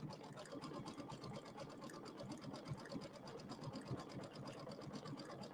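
An embroidery machine stitches a satin stitch on fleece in a steady rapid mechanical chatter, even and continuous throughout, moderately close with no talk.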